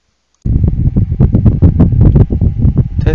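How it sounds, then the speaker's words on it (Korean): Wind from an electric fan buffeting a Turtle Beach Stealth Pro headset microphone, a loud, irregular rumbling of gusts that starts abruptly after a brief silence and continues without speech. "마지막으로 선풍기로 바람을 만들어 보겠습니다."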